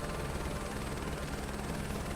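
Simulated helicopter in Microsoft Flight Simulator 2024 flying over the Grand Canyon, a constant rotor chop and engine hum at an even level with no voices.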